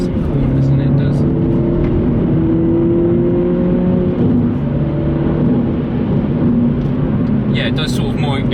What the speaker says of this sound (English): It pops when you shift up, which it never used to do, so it does sound quite good.